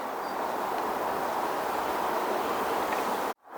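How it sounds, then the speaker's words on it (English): Steady, dense roar of highway traffic near London beside an urban stealth wild camp, a continuous broadband wash with no distinct vehicles, cutting off abruptly near the end. "My apologies if you can hear the highway in the background."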